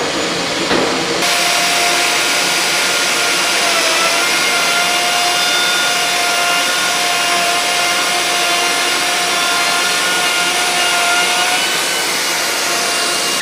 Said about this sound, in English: I'm going to turn the vacuum on,